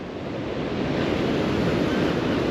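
Storm Nelson surf pounds the coast at Dawlish in a loud, unbroken roar of crashing waves, mixed with gusting wind buffeting the microphone and no voices.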